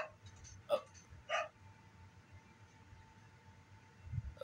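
Dog in the video game Resident Evil 4 giving two sharp barks close together, then a pause of low game ambience before another short yip at the end.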